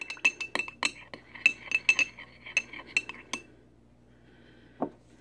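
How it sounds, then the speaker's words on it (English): A spoon stirring and clinking in a dish, a quick irregular series of bright metallic clinks close by for about three seconds, then a single later knock. "I'm going to stir them up."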